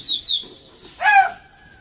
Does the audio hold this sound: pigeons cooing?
yes